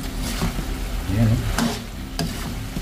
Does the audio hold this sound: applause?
no